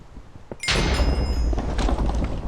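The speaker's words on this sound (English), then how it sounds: "Seriously, it sounds like explosions. It's just thunder, I'm pretty dang sure." Thunder in the Minecraft video game: a sudden loud crack that breaks into a heavy, sustained rumble after a quiet moment, lasting about two seconds.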